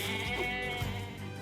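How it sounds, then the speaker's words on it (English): A sheep in the video game Nier: Replicant gives one wavering, nasal bleat, close and clear over a steady game soundtrack hum. "We're only here for the sheep"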